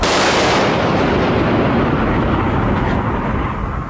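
Main gun of the battleship USS Wisconsin BB-64 firing, a huge blast that fills the clip with loud, sustained broadband roar and slowly decays, heard alone without voices.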